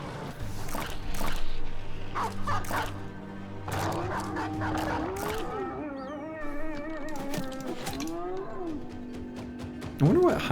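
Hyenas in a video game let out wild, wavering cries and whoops that rise and fall in pitch, mixed with shorter yips and barks. Game noise and voices run underneath.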